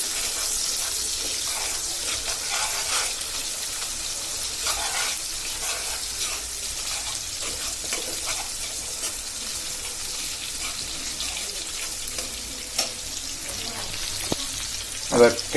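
Onion, garlic and green chilies fry in hot oil, giving a steady loud sizzle that fills the whole stretch, with occasional stirring scrapes and no talk.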